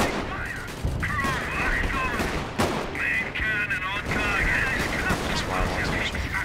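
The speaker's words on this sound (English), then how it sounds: "Rifle grenades." Dense rifle fire and rifle grenade bursts from a Company of Heroes World War I mod battle with German forces, rattling continuously and loudly with scattered booms while someone talks over it.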